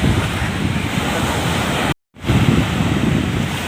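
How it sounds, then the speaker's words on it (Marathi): Sea waves roll in at Dadar Chowpatty beach under strong wind buffeting the microphone, a loud continuous surf roar broken by a brief gap of silence. "तर पाणी येते, लाटा येते, हवा मस्त हवा सुटले."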